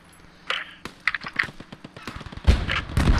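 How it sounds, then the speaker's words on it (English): Scattered gunshots in the video game Post Scriptum during a night battle, a series of sharp close cracks and thuds spaced irregularly, growing denser and louder toward the end. "That guy was shooting at somebody else, he just like turned the shot."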